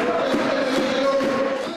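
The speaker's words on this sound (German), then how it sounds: "Jubel, Trubel, Heiterkeit in der bis auf den letzten Platz ausverkauften Sparkassenarena zu Kaufbeuren" Ice hockey fans in a sold-out arena in Kaufbeuren cheer and roar together, a dense sustained crowd sound that stays loud across the short moment.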